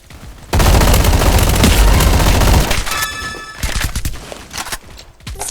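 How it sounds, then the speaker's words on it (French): Rapid bursts of gunfire from a Roblox combat arena game, loud and dense for the first couple of seconds, then thinning into scattered shots with a brief ringing tone. "Ça me tire de tous les côtés."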